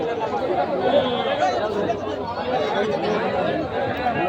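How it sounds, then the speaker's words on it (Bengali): Dense crowd chatter at a busy rural cattle market in Badarganj, many overlapping voices forming a steady, close hubbub with no single speaker standing out. "অনেক মানুষের ভিড়ে ভাই হারাই গেছি, এত মানুষজন"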